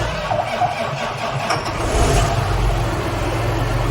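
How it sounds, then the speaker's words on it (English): An 8130 tractor fitted with new batteries starts up in a barn, its engine catching and settling into a loud, steady rumbling idle. "I'm gonna get the tractor out of the barn on the patio."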